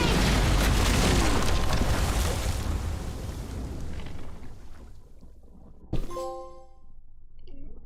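A huge bomb blast in Telltale's The Walking Dead: a loud, roaring boom that slowly fades over several seconds, followed by a sharp crack and a ringing tonal aftermath as things settle.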